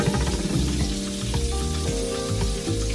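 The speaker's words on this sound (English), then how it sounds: "we're going to go ahead and flip our sweet potato bread" Sweet potato bread sizzling steadily in a pan after being flipped, a loud continuous frying hiss with a low hum underneath, and no talking.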